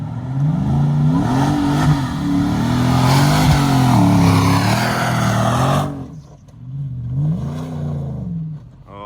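A supercharged Nissan Y62 Patrol climbs a sand hill in third gear low, its engine revving hard and steady with a whining blower note, then briefly dropping off before building again, close and loud.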